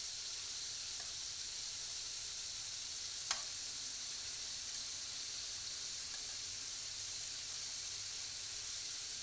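Rohu fish paturi frying slowly in a covered pan, a faint, even sizzle and hiss held throughout with one sharp tap partway.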